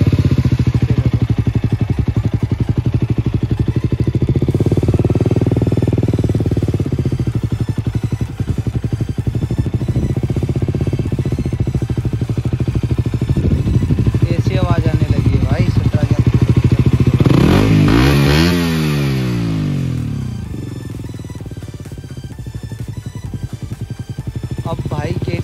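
A KTM motorcycle with about 17,000 km on it, engine running close and loud at idle, then revved in a few rising bursts before settling, with someone talking over it at times.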